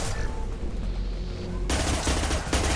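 Heavy weapon fire in Mass Effect 2, loud sustained bursts of gunfire with booming impacts rolling over each other, close and continuous, briefly cutting out before resuming.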